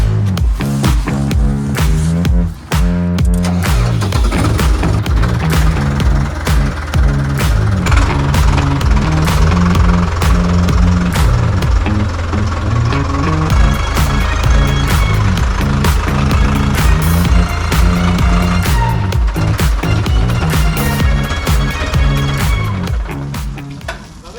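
A Centauro tractor's diesel engine runs loud and close while it is being moved, with steady rough chugging, rattling clatter and several shifts in load throughout.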